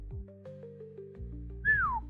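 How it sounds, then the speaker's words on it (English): Whistle sound effect during a tabletop role-playing game session: a bright rising-then-falling whistle near the end, following low sustained synth-like tones, loud and alone without talk. "I did not like that whistle."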